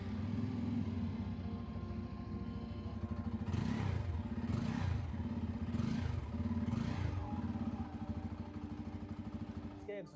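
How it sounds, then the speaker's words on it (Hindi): A Bajaj Pulsar N250 motorcycle's 250 cc engine idles steadily with a deep, bassy exhaust note, then is blipped in about four rising revs before settling back to a steady idle, close and loud throughout. "तो आइए अब आपको इसका एक बार एग्जॉस्ट नोट सुना देते हैं।"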